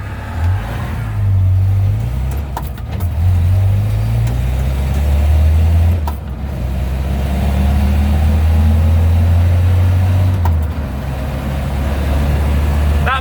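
A Geo Tracker 1.6-liter 8-valve engine swapped into a Suzuki Samurai with a carburetor idles and revs lightly, a steady low drone rising and falling through several gentle throttle blips over about thirteen seconds, close and loud.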